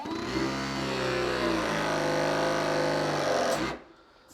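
A battery-powered press tool crimping a plumbing fitting while a shower faucet is replaced, giving a steady motorised whine for a few seconds that stops abruptly and leaves near silence.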